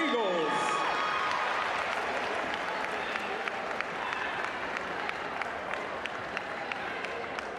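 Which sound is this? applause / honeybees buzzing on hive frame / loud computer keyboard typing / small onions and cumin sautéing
applause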